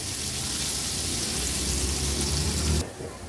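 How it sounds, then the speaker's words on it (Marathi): Ginger, garlic and chilli crush sautéing on a low flame for kaju karela, a steady close sizzle and crackle of frying that cuts off abruptly near the end. "लो फ्लेमवर ह्या तिन्ही वस्तू छान आपल्याला परतून घ्यायचे आहेत"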